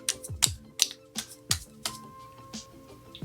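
Repeated sharp slaps of hands patting foundation onto a face, about eight crisp close smacks in an irregular rhythm, with no talking.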